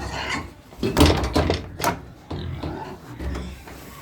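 Two dogs, called the boys, stand on a door and rattle it, giving knocking, thumping wooden rattles in uneven bursts up close, with a voice faintly in the background.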